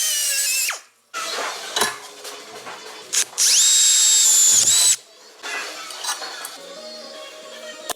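Power drill boring out sheet metal on a Subaru during a hood vent and roof vent install, heard in several close, loud bursts of whining spin with pauses and metallic clinks between.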